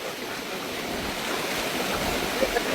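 Floodwater pouring out of the Visuvamadu tank during a deadly flood, a steady broadband rushing roar heard close and continuous throughout, with no break.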